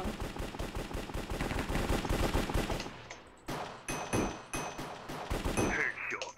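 A pump-action shotgun fires in the Minecraft Hypixel Cops and Crims game, first in a rapid run of overlapping blasts and then as separate, spaced shots with short pauses between them.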